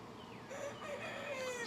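A rooster crows in a long, wavering call that rises and holds, fairly close, over a steady background of farmyard noise.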